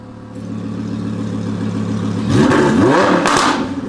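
Audi R8 V10 Plus with exhaust valves open, idling steadily at first, then revving hard in two sharp rising sweeps with crackling, loud and close.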